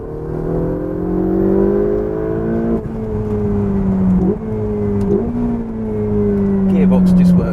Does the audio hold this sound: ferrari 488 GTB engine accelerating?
yes